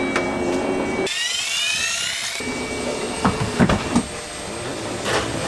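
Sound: motorised swim platform lifting on Beneteau Oceanis 48 yacht

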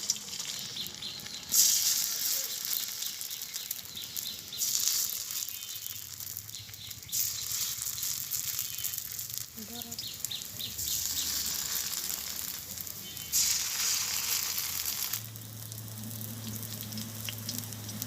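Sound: water lily fritters frying in hot oil

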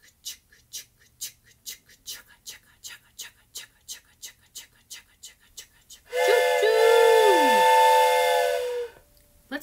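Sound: voice imitating a train sound

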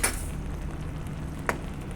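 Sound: sautéing bottle gourd vegetable with spices in a pan

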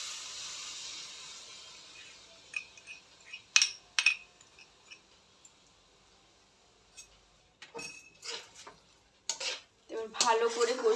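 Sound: biryani masala being stirred and sautéed in a pan

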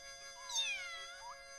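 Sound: cat meowing

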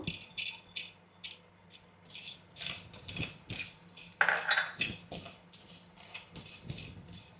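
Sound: cumin seeds and black peppercorns roasting in a pan

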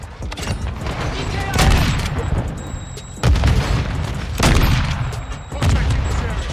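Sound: grenade explosion and gunfire in a video game

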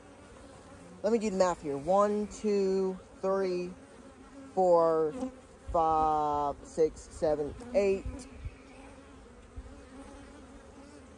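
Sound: honey bees buzzing around an opened hive

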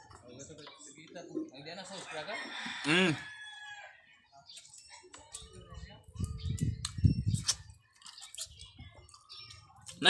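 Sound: chickens clucking

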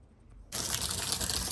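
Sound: water tap filling a water tank

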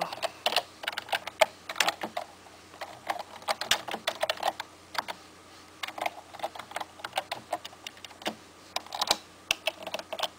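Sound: typing on a computer keyboard with one hand

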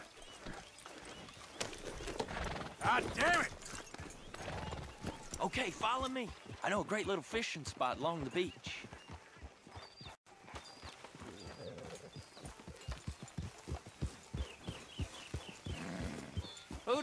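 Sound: horse hooves clip-clopping, from video game Red Dead Redemption 2

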